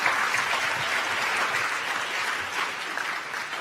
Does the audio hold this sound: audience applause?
yes